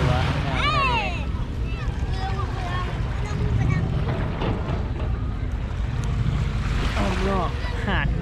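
Sea waves wash continuously at Kunsan beach with wind buffeting the microphone, while children's voices and chatter carry over the surf throughout.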